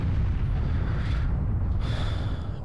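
A bomb explodes in a video game, a loud, sustained low rumbling blast that fills the whole stretch and trails off without fading much.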